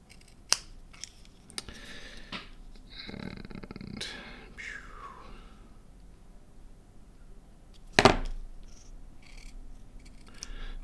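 Scissors snip shrink tube in a few short, sharp cuts close by, with one loud crisp snap near the end amid quiet handling sounds.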